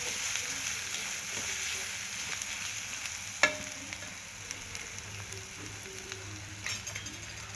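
Spices frying in oil in a pan, a steady close sizzle with occasional stirring clinks and one sharp metallic tap partway through.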